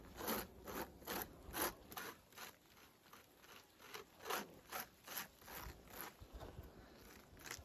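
Capped honeycomb on a beehive frame being torn open, a rhythmic series of close scraping, crackling strokes repeating about every half second over a faint background hum, no talk.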